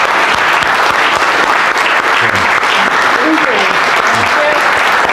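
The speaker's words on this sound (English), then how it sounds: "a round of applause for those" Steady applause from a church congregation, dense and loud throughout, sustained without pause and with no speech over it.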